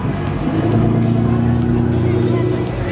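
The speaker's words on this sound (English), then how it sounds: "another GTR rolling in." At a busy car show, a Nissan GT-R rolls in nearby with a loud, steady low engine drone and sustained exhaust tones, while crowd chatter carries underneath.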